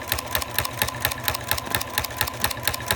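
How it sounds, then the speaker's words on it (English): A sewing machine stitches binding onto fabric in quick, regular bursts of needle clatter over a steady motor hum, close and alone. "And then I just sew."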